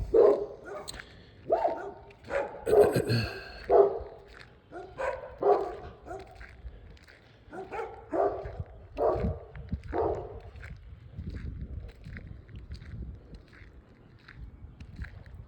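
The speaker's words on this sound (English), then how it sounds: "All the dogs of the neighborhood now." Several dogs bark repeatedly in irregular bursts, some near and some farther off, fading toward the end with a voice faintly mixed in.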